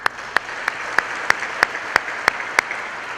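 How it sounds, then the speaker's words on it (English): Clapping at a high school event sounds as sharp, evenly spaced claps, about three per second, close and prominent over a low background murmur, keeping a steady rhythm throughout. "so let's all just give them a round of applause"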